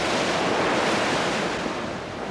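Ocean waves and strong wind batter a sailing ship in a continuous loud roar of surf and gusting wind, with no voices.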